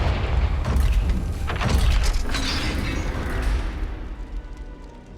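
Confringo explosive spell blasts in the game Hogwarts Legacy, loud booming bursts and crackling debris that rumble through the first seconds and then fade into a dimmer echoing tail.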